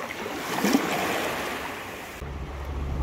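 Gentle surf washes steadily against a shore in the Seychelles, soft and continuous with a faint rush of wind, then a low rumble joins near the end.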